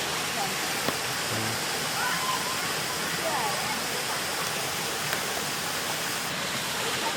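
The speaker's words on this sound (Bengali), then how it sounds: "রয়েছে একটা অন্য জলের স্রোত সেখানে স্থানীয় মানুষরা স্নান করছে" A water stream where locals bathe at Ajodhya Pahar in Purulia rushes in a steady, broad hiss throughout, with faint scattered splashes and distant voices beneath the flow.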